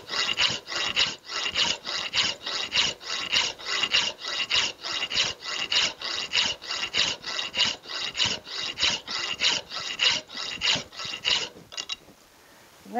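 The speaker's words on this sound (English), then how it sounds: "How much filing do you guys want to watch?" A metal bolster plate is worked with a hand file in about two dozen even, rhythmic rasping strokes, loud and close, before the strokes stop near the end.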